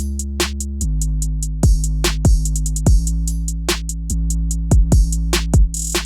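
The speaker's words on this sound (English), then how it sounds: "Now the drums sound like this." Trap drum pattern with booming kicks, snare hits and rapid hi-hats, the high end rolled off for a vintage, muffled feel; steady rhythmic loop played alone with no voices.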